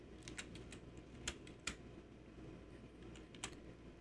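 Numbers tapped out on a computer keyboard while setting drawing limits in AutoCAD, a handful of faint, crisp keystrokes in short clusters against a quiet room.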